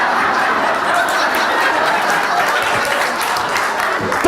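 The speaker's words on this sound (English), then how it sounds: "Don't clap, I don't have the time." An audience clapping at a talk, a steady, close burst of many hands applauding for several seconds, with faint chuckles mixed in.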